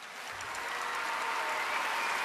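A concert audience claps hands in dense, sustained applause, a steady wash of many hands that swells slightly and holds at a moderate level without speech.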